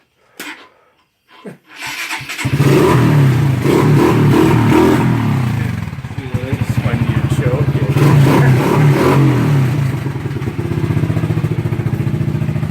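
A dirt bike with the choke turned up cranks with a few clattery attempts, then catches and runs loud and close, its engine revving up and down in a steady throaty drone for about ten seconds.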